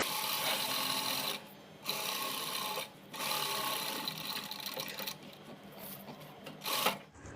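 A sewing machine stitching around a garment neckline, a close, rapid mechanical whirr in several runs broken by short pauses, with no talking.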